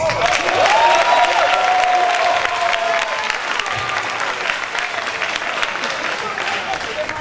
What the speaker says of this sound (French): Est-ce qu'on peut l'applaudir une fois encore, mesdames et messieurs